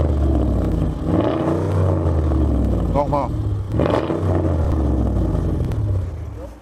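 A modified street car from the Cologne speeding scene revved hard during a police noise check, a loud, close engine roar that swells and falls, with a brief spoken word.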